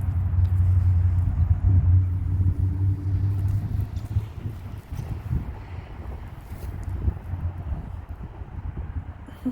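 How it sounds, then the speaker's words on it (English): Steady low road-traffic rumble carries through a New Year's Eve day walk with a Labrador, a continuous muffled drone with some wind buffeting and no voices. "Might be tough to hear the traffic noise"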